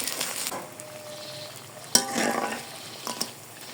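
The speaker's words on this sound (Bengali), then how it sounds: "পটেটো স্টিকগুলো ভাজা হয়ে গেছে" Potato sticks fry in oil with a soft, continuous sizzle, broken by a brief clink of a utensil partway through.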